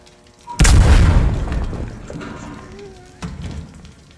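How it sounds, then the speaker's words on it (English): A pressurized oxygen tank explodes in an SCP horror video game, one loud deep boom that rumbles and fades over a couple of seconds, followed by a softer thud. "Oxygen tanks under that pressure actually become explosive."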